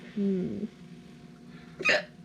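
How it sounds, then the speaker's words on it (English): Someone hiccups at home, a short sharp hiccup near the end following a brief voiced sound, close and fairly loud. "Oh, hiccup."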